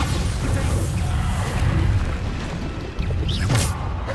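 Bombarda explosion spell in Hogwarts Legacy on PS5, a deep booming blast with rumbling low end, followed by crashing debris and a sharp burst near the end, with some voice mixed in.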